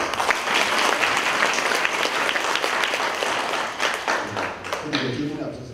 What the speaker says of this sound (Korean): 우리 시민단체 여러분 큰 박수 한번 부탁드립니다